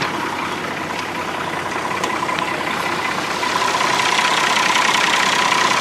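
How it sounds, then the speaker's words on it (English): A restored Oliver 1850 tractor engine idles steadily with a low, even rumble and a faint chugging texture, growing slightly louder toward the end. "Nice restored tractor here."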